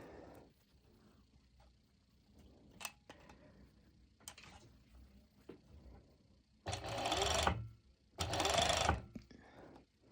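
A serger overlock sewing machine stitches mesh Lycra for pole dance shorts in two loud, steady bursts of motor whir, each lasting over a second, with quieter handling clicks and rustles in between.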